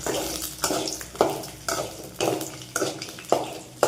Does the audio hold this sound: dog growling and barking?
no